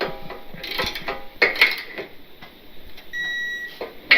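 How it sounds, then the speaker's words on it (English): A torque wrench tightens a RIGD Ultraswing mount on a 1973 IH 4WD Travelall toward 85 foot-pounds, with close irregular ratcheting clicks and metallic creaks, a short beep-like tone near the end. "So we have our torque wrench here. And we'll see if we can get this to 85 pounds."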